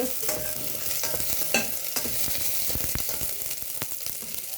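Ingredients stirred and fried in a pan until brown for ramen: a constant crackling sizzle under repeated scraping and clinking of a utensil against the pan, close up and fairly quiet, with no talking.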